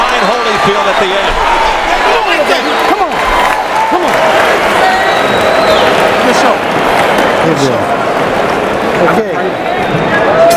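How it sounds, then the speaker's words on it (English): Boxing arena crowd cheering and applauding for Holyfield at the end of a round in the Holyfield v Toney fight, a loud, continuous roar with clapping and shouts, while a commentator talks over it. "the crowd getting behind Holyfield at the end."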